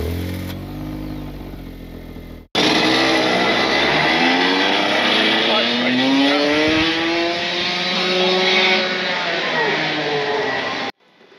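Rotax Max racing kart engine revving loudly in the pit lane at Bayford Meadows track, a steady rising buzz from close by that kicks in after a quieter opening and cuts off abruptly near the end.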